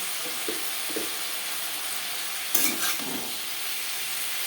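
Snake gourd and grated coconut frying in a pan, a constant hissing sizzle with a few soft stirring scrapes and one louder clatter of the utensil near the middle, close and steady.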